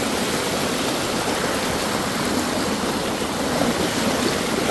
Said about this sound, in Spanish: Está fuerte pues. El río ahorita, la creciente.